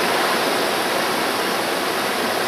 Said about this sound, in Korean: 2단 폭 첫 번째 폭포인데